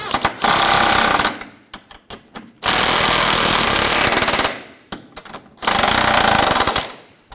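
Sway bar bracket nuts snugged down with a power tool on a 2004-2009 Audi A4 Quattro: three loud, sustained buzzing bursts with short stuttering pulses between them, close by.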